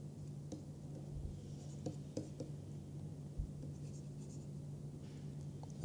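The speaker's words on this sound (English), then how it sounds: "let me just write down." Chalk or marker writing on a board in a topology lecture room, with faint, intermittent scratchy taps and strokes over a steady low hum.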